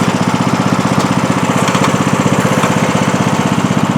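A John Deere D105 riding lawn mower engine runs loud and close, a steady, rapidly pulsing rumble with a rhythmic chugging throb that continues without pause.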